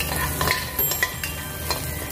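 Garlic sautéing in rendered bacon fat for a tuna carbonara sauce, a steady soft sizzle with occasional utensil stirs and light pan clinks, close and continuous.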